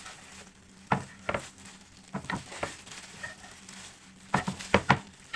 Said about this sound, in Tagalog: Ayan, dito lang ako guys sa kwarto naghihiwa-hiwa. Hiwain natin to.